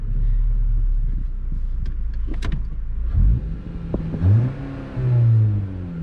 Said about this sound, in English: just give it a few taps on the gas, like a throttle blip